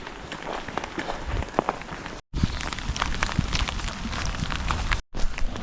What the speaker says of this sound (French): Il grêle fort.